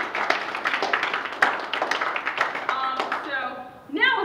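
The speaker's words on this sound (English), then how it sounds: "So if we could give these three a round of applause also." Applause for three young helpers at a youth startup event breaks out as a close burst of clapping, fading near the end as a voice begins speaking.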